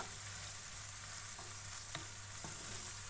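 Tomatoes for menemen cook in a pan over low heat, giving a soft, steady sizzle with a few faint utensil taps, heard on its own.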